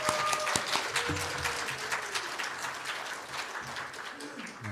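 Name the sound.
congregation applause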